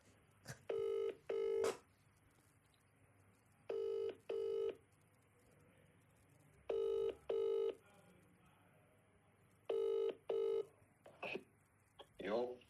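A phone number dialed on a touch-tone keypad: eight short beeps in quick pairs spaced a few seconds apart, clear and fairly loud over a quiet room, then a few soft clicks.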